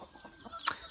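Chickens cluck briefly at dawn in a Namibian village, soft low clucks followed by one short sharper call, fairly close and alone.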